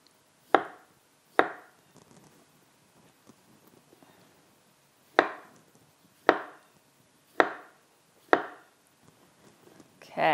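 Knife chopping vegetables into chunks on a cutting board for a rainbow grain bowl, six sharp, evenly spaced thuds with quiet gaps between, close and fairly loud, no talking.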